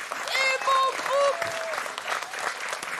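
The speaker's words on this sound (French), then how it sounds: "on applaudit Vincent un petit peu, les enfants beaucoup, et mon groupe" An audience applauds Vincent and the children, steady crowd clapping under whoops and cheers from several people early on, settling into a continuous patter.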